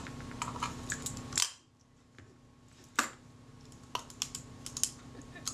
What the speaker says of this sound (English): the mirror is certainly latching down into position